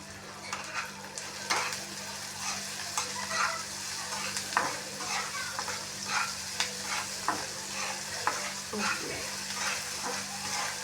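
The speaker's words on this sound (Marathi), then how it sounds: "आता आपला कांदा भाजत आला." Onion frying in a kadhai with a little salt, a steady close sizzle broken by repeated scraping strokes of a spoon stirring the pan, with no talking.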